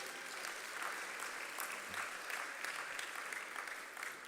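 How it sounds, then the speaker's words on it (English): An audience claps for the reappointed Jamaican Minister of Agriculture, Fisheries and Mining at an agribusiness investment forum, with continuous, even applause that stays moderately loud and steady throughout, slightly distant, with no speech over it. "A round of applause once more,"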